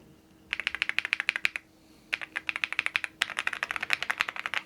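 Keys clack in quick bursts on a budget £50 mechanical keyboard, close and crisp, with two short pauses between runs of rapid typing.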